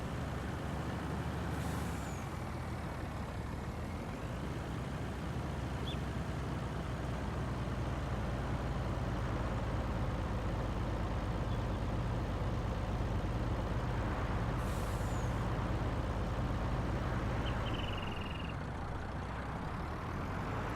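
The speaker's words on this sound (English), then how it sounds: "I have no doubt that this truck empty will make it up and down these hills." An empty logging truck climbs a hill in Farming Simulator 19, its diesel engine droning loud and steady with a deep rumble, while brief hissing air-brake bursts break in twice along the way.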